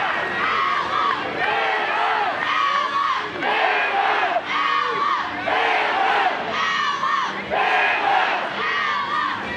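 Alabama fans at a college softball game against Missouri roar and chant in a loud, sustained stadium crowd noise, rhythmic swells of shouting voices filling the ballpark throughout.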